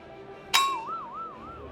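Drinking glasses clink once in a toast at a Harry Potter-themed restaurant, a sharp bright ring that decays into a wavering, fading tone.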